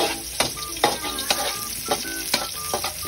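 Garlic and onion sautéing in a pan: a steady, bright sizzle with periodic scraping strokes as the pieces are stirred. The sound is close and clear, with no talking.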